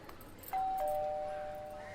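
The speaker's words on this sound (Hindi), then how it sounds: "मेरे दरवाजे की घंटी बज रही है।" A single electronic doorbell chime rings at a home's front door, starting abruptly and sustaining a steady tone that slowly fades under low room background.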